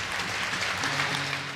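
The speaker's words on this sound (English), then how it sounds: "A 47-second applause for number 47, Adam Johnson." Crowd at an ice hockey arena in Sheffield applauding in tribute to Nottingham Panthers player Adam Johnson, number 47; dense, sustained clapping fills the short moment.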